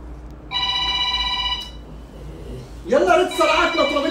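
A telephone rings with a bright electronic tone held for about a second, then falls quiet as people begin talking loudly nearby.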